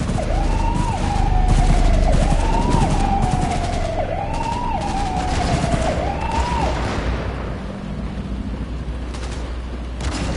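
Gunfire in Cyberpunk 2077 rattles in quick sharp bursts beneath a loud, wailing police-style siren that rises and falls repeatedly, then fades, leaving scattered shots in the background.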